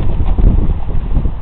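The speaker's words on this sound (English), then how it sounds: "It's very windy." Strong wind buffets a microphone outdoors at a party, producing a loud, continuous low rumble with gusting surges and no other clear sounds.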